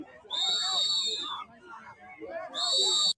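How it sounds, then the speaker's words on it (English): Whistles blown by protesters at a Minneapolis ICE protest, two long shrill piercing blasts, the first sustained about a second and the second starting near the end, over a noisy street crowd with people talking. "Here come the whistle again. It's the whistles."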